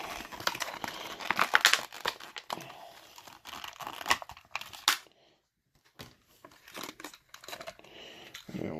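A trading card pack is torn open by hand, with bursts of crinkling and ripping wrapper noise close up, a brief silent pause, then more rustling and handling.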